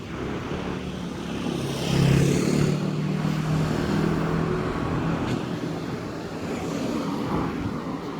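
On a busy street in Tainan, a car pulls in and slows to a stop, its engine a steady low rumble that swells briefly and then settles under constant surrounding traffic noise.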